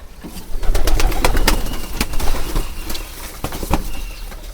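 A flock of pigeons being fed rice coos and shuffles close by, with bursts of wing flapping and sharp pecking clicks scattered through a steady background murmur.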